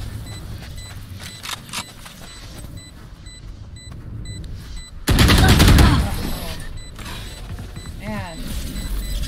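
A video game shooter's gunfire erupts as a sudden loud burst of several rapid shots over ongoing game sounds and background noise, with speech also present.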